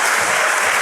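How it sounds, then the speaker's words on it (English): An audience claps together in a dense, steady burst of applause, loud and close, with no talk over it. "What are these people clapping about?"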